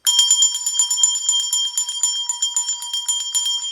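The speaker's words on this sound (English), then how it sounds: "Let me ring bell for you." A bell rung repeatedly in a steady, rapid rhythm, bright ringing strikes close and loud with no talk over them.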